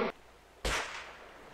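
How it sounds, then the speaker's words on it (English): A single sharp, loud bang rings out after a brief noise, then decays into a fading echo. "What was that sound? It was a gunshot?"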